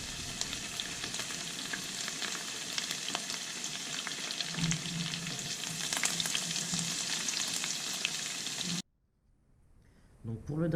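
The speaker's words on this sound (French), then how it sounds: "Et ensuite, vous pouvez mettre votre persil à frire." Parsley frying in hot oil gives a steady, loud, crackling sizzle for most of the stretch, then cuts off abruptly to near silence with a few faint scattered sounds at the end.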